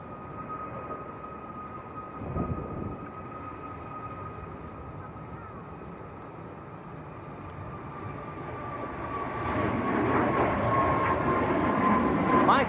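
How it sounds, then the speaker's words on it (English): A Ryanair jet takes off at a windy Manchester Airport, its engine roar rising from a distant steady hum with a whining tone into a louder rumble toward the end. "Next to go, Ryanair to Milan."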